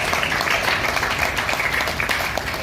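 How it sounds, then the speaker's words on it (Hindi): Audience at a government programme in a hall at Patna's CRC Bhawan applauds steadily, a dense wash of clapping holding at an even level throughout the short stretch. "हमारे निदेशक महोदय NILT Kolkata doctor Lalit Narayan sir के लिए एक बार ताली हो जाए।"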